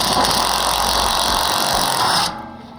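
A power drill whines loudly and steadily for about two seconds, drilling a hole in a Volvo 740 Estate floor pan panel, then cuts off, leaving a faint fading hum.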